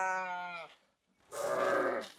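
Lambs bleat on a Turkish village farm, a quiet wavering bleat followed after a pause by a second, rougher and louder cry, close by with no talk.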